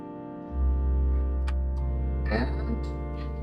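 A church keyboard, likely organ, plays the final cadence of a piece: a sustained, full chord enters strongly and holds steadily, with some brief light noises over it.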